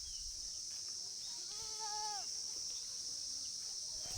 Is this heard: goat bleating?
yes